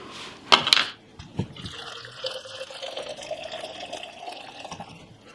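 Water runs from a tap into a bottle in the morning, starting with a few sharp splashes and settling into a soft, steady trickle whose pitch slowly rises as the bottle fills.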